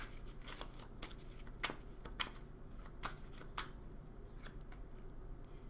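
Tarot cards are shuffled by hand, a continuous quiet riffling with irregular soft snaps and slaps, close up in a quiet room without talk.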